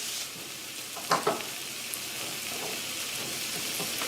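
Onions and spices fry in a pot for Hungarian goulash, giving a steady, even sizzle with a brief knock of stirring near the start.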